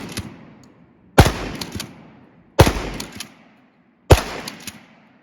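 Three loud shotgun blasts from a Smith and Wesson 3000 12 gauge firing birdshot at an outdoor range, spaced about 1.4 seconds apart, each a sharp crack with a ringing decay and no talking.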